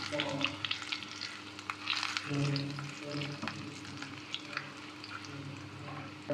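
Garlic and whole white cumin seeds roasting in hot oil make a continuous crackling sizzle with intermittent stirring scrapes, close and fairly quiet, with no speech.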